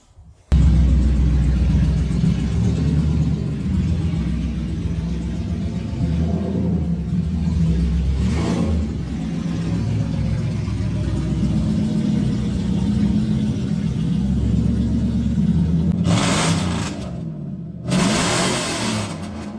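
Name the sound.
Lexus LS400 engine running and revving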